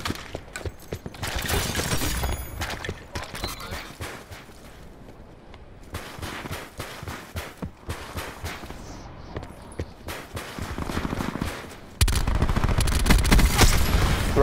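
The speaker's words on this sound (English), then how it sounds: "Man, I'm shooting this dude in the head" Gunfire in the first-person shooter video game Call of Duty Black Ops 4, with bursts of rapid shots coming in clusters and short gaps between them, growing louder and denser toward the end.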